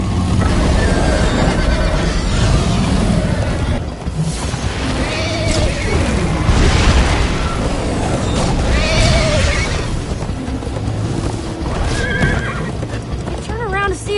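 Galloping horse hooves clatter continuously in Minecraft: Story Mode, with repeated whinnies and neighs rising over the thudding rhythm, loud and near, while voices speak at points over the chase.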